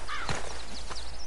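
Horse hooves clip-clop in Red Dead Redemption 2, a few close, distinct hoofbeats over a steady background hum of the game's ambience.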